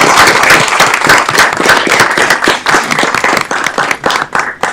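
Applause at a city council meeting, a dense burst of many hands clapping close by, loud and steady, then thinning slightly toward the end.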